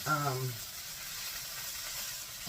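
Hash browns frying in butter in a skillet give a steady, soft sizzle and hiss, with a brief voice at the start.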